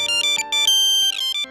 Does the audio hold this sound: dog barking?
no